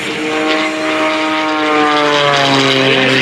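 Loud, steady drone of an MXS aerobatic propeller airplane's engine revved to about 2,800 RPM at an airshow, with rising and falling harmonic tones as the aircraft passes, continuous throughout with no talk.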